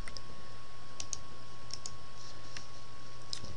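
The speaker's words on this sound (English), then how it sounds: "Now I've just got to type on there." Typing on a computer keyboard produces a handful of light, sparse key clicks at an uneven pace, faint against a steady hum of room noise, with no one speaking.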